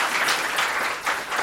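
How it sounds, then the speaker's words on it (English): Audience applause at a university dentistry symposium, a steady wash of many hands clapping in a room, moderately loud and continuous for a brief moment with no voices. "So if we can all give Ben a round of applause."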